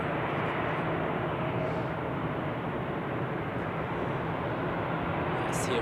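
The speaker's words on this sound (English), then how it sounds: "there's a Helvetic Embraer on the runway which should depart any second" A Helvetic Embraer jet rolls for departure on a Zurich Airport runway in winter, a steady, loud, broad engine roar that holds level throughout and sits distant but dominant.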